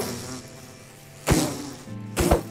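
A bee in the Minecraft video game gives a low droning buzz beneath two sharp hitting thwacks, close and brief.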